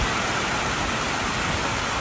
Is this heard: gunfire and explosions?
no